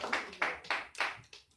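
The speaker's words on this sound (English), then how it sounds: "Let's get a lot of hand clap." Church congregation clapping hands, about five distinct loud claps at a slow, uneven rhythm, close and with no talk over them.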